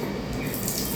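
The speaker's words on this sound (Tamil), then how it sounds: "தண்ணி வருது." Water runs steadily from a tap in a budget hotel room bathroom in Chennai Central, a close, continuous hiss that lasts about a second.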